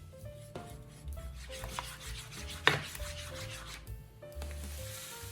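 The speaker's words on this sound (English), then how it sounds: "Mix well." Egg, flour and water batter being mixed gives soft, irregular rubbing and scraping strokes with faint clinks, close and quiet, with no talking.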